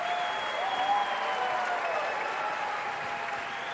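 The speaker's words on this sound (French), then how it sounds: "La salle applaudit." An audience inside the Palais des Festivals theatre in Cannes applauds in a dense, steady wash of clapping that holds evenly throughout.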